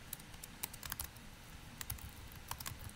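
Keys clatter on a computer keyboard in short irregular bursts of typing, fairly close and moderately quiet, with no voices over it.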